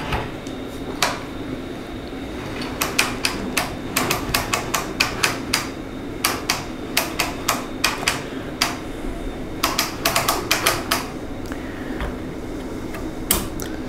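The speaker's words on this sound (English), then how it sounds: "Now we are ready to unwind the mainspring." A mainspring winder for a watch or clock clicks steadily while the mainspring is unwound. Sharp, close ratchet ticks come in irregular bursts over a low background hum.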